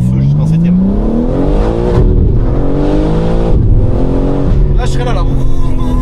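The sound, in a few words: 1000-horsepower BMW car accelerating through the gears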